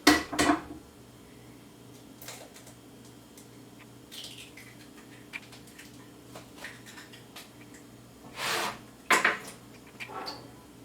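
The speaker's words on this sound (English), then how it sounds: "I'm just going to break some eggs here." Eggs cracked for a home-cooked breakfast: a few sharp, brief taps of shell against a bowl or pan, with a cluster near the start and two more near the end, spaced apart in a quiet kitchen.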